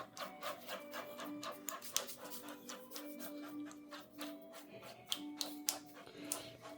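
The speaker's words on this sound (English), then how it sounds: "I'm going to take that little stick and mix this in." A small stick scrapes and taps while stirring epoxy resin on a charcuterie board, a rapid, irregular series of light scratchy clicks, close and quiet, with a faint steady hum beneath.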